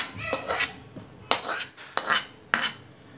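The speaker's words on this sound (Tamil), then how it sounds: "வெந்த முருங்கைக்காய் ஆவாரம்பூ வந்து இதில் நம்ம மிக்ஸ் பண்ணிடணும்" Boiled drumstick pieces and avarampoo flowers being stirred into a buttermilk curry, a utensil clinking against the pot in four or five distinct bursts, close and fairly loud with short pauses, no one speaking.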